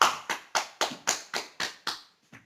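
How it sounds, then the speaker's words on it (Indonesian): Eight sharp hand claps in a quick, even rhythm, then a softer ninth after a short pause, close and clear in a quiet classroom, with no talking. "Ayo beri tepuk tangan dulu untuk Rayana."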